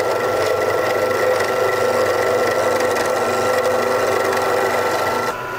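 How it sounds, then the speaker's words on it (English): A gouge works wood spinning on a lathe, giving a steady, continuous scraping hum with a motor drone underneath, loud and close throughout before easing slightly at the very end. "going to take our gouge tool and gently work the wood"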